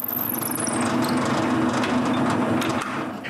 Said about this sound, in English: On one side, I drill a hole for the pole's screw